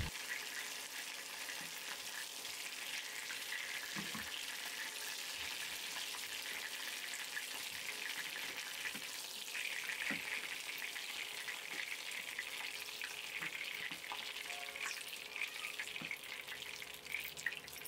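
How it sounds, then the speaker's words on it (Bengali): Pieces of chicken, cooked Mongolian style, fry crisp in hot oil with a steady, dense sizzle and occasional pops and scrapes as they are stirred and lifted out. No one talks. "মাংসগুলো মুচমুচে হয়ে ভাজা হয়ে আসলে এবার তেল থেকে উঠিয়ে নিচ্ছি"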